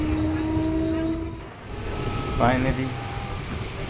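Inside a crowded Mumbai local train after heavy rain, a steady rumbling rush of the moving carriage fills the space while someone talks over it, with a brief rising squeal midway.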